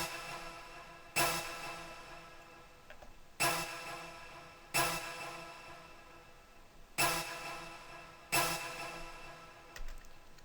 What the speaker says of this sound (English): So with this pattern, basically what I added was a orchestra hit.